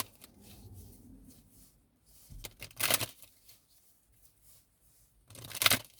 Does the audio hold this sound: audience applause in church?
no